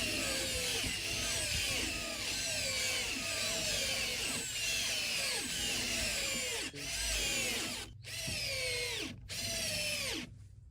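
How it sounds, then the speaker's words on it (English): Bosch 12-volt and Milwaukee cordless drills rev up and wind down again and again in quick bursts, side by side, their motors whining as screws are driven, loud and close. "we're going to drive in 10 of these screws with each drill side by side"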